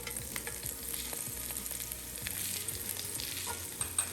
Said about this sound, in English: Add in your chili and spring onions.